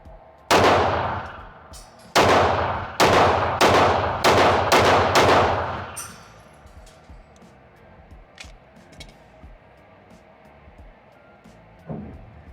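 Shots from a Fusion XP Pro pistol on a firing range: seven loud, sharp reports, one alone then a quicker string of six, followed by faint clinks and quieter handling noise.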